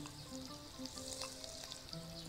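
Garlic tagliya sizzling in a pan for molokhia, a faint, steady frying crackle with a few brief stirring sounds.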